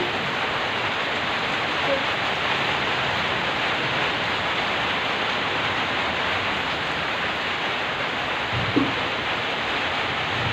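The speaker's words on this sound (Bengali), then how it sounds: "এখন আরো বৃষ্টি।" Rain falls steadily, a dense, even roar of wideband hiss that stays close and constant throughout. A couple of faint knocks rise briefly above it.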